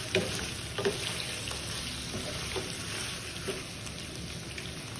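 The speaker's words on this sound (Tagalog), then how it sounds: "Imekos-mekos lang natin, lutuin yung tomato paste" Tomato paste sizzles and fries in a hot pan as a spoon stirs it for beef caldereta, a steady close crackle with occasional soft scrapes, no voices.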